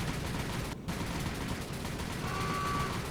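Naval guns fire in the War on the Sea campaign: a dense, continuous roar of overlapping shots and rumbling blasts fills the whole stretch at steady loudness, with no voices.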